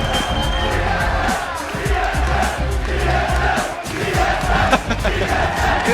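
A large esports arena crowd at the 2013 League of Legends World Championship, TSM versus Lemondogs, roars and cheers continuously, with commentators talking over the dense, sustained crowd noise.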